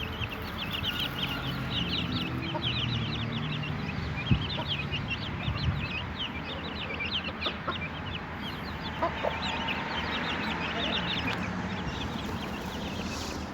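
A Bresse hen clucks softly and repeatedly at close range, over a constant high peeping of chicks and farmyard bustle.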